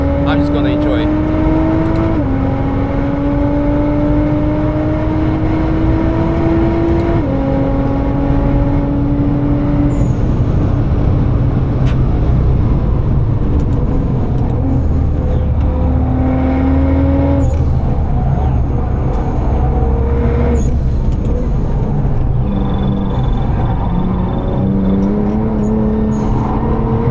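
Nissan R35 GT-R lapping the Nürburgring, its engine loud and close throughout, revs climbing through each gear then dropping on upshifts and braking, with tire and road noise and a voice talking briefly over it.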